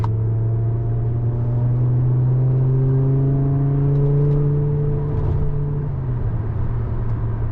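A BMW E60 M5 with its V10 engine, a close, steady droning engine note that climbs slowly in pitch and then eases off near the end, heard alone without voices.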